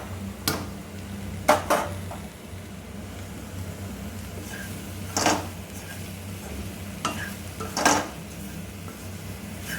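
Eggplant sautéed with onions in a pan: a soft background sizzle with a handful of sharp spatula clinks against the metal, spaced irregularly, fairly quiet and without speech.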